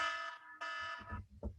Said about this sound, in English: That's my timer stopping me.